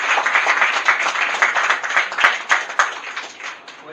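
An audience at a company branch opening ceremony claps in a warm, steady round of applause, close and fairly loud, fading slightly toward the end.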